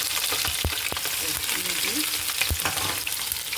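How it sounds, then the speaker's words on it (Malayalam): Garlic frying in sesame oil for a lemon pickle, a steady close sizzle and crackle with a few sharp scraping stirs of a utensil in the pan. "ഈ വെളുത്തുള്ളിയൊക്കെ വഴന്ന് വന്നിട്ടുണ്ട്."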